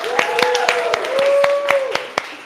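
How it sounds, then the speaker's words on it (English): A crowd claps in a hall, dense and fairly steady across two and a half seconds, with a held musical tone sounding under the applause. "let's vote for song number 1 by your claps"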